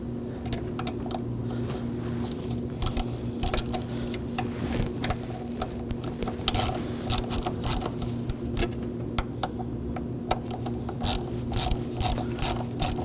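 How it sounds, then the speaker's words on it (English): A hand ratchet drives the fuel pump bolts on a 2014-2020 Acura MDX 3.5L V6, giving rapid clicking pawl bursts in short irregular strokes over a steady background hum, close to the microphone, with no talking. "Now we want to make sure we drive the bolts evenly to make sure it goes in smooth."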